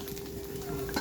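Food frying and being stirred on a wood-fired clay stove in an outdoor village kitchen, a brief steady sizzle with soft scraping, close and alone.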